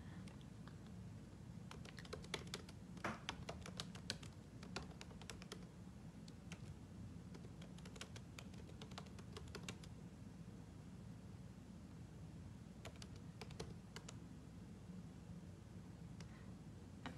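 Fingers tap on a computer keyboard in bursts of quick clicks separated by pauses, faint and close against a steady background hiss, with no talking.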